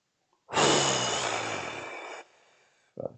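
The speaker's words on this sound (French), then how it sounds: "On inspire encore." A single deep, long breath drawn in through the nose and mouth during a relaxation exercise, close and breathy for nearly two seconds, fading out, followed by a short soft breath sound.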